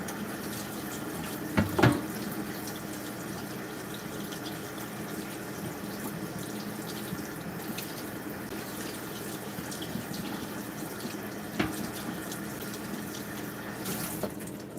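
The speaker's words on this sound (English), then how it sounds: "rinse off the cutting board here" Tap water runs steadily while a cutting board is rinsed at a kitchen sink, a constant close hiss with a couple of brief clunks near the start and one more later.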